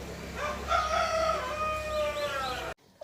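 A rooster crows in a long rising and falling call over a low background of chickens, ending abruptly.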